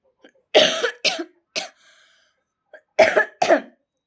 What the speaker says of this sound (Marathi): सर्दी खोकला चालूच आहे